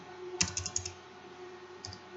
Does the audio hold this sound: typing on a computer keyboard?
yes